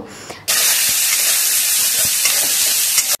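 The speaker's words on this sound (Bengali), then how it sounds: "আর এই যে দেখো, মশলা কষিয়ে নিচ্ছি, মাছ রান্না হবে তার জন্য" Spices for a fish curry sauté in a pan with a loud, dense hiss that bursts in suddenly after a quiet start and holds steady for about three seconds before cutting off.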